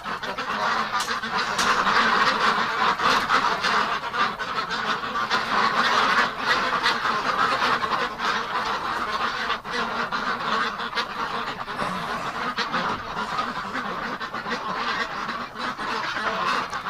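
A flock of farm ducks in winter keeps up a dense, steady chatter of quacks and honks close by, loud and overlapping for the whole stretch.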